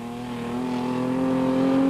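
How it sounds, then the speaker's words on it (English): The Procost BMW rally car, driven by Norman Clark, holds a steady, loud engine drone as it drives in a rally, building slightly in volume over a couple of seconds with no talking. "Norman Clark driving the Procost BMW."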